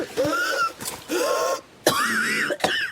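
A person coughing and clearing the throat in several rough, throaty bursts, loud and close, with short pauses between them.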